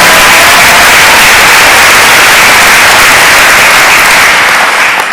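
An audience at a high school graduation applauds scholarship winners, a dense, loud, sustained wash of clapping that holds steady and then tapers slightly at the end.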